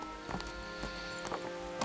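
Horse hooves clip-clopping in Kingdom Come: Deliverance, a few soft irregular steps over a steady background hum, with no talk.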